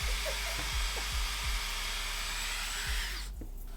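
An electric nail drill fitted with a Temu carbide nail bit whirs steadily and loudly for a few seconds, with small ticking contacts near the start before the motor tone fades.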